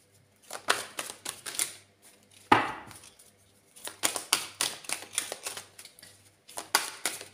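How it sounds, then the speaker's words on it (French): Tarot cards being drawn from a deck and laid out one by one on a table, a quick run of soft crisp slaps and flicks in bursts with short pauses between, close and fairly quiet, with no talking. "Je vais prendre 5 cartes."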